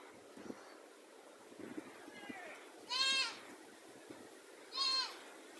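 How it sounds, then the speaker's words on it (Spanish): Goats arriving at a small forest farm bleat twice, clear and fairly close, over a quiet outdoor background with faint rustling and soft voices. "Ah, vienen las cabras."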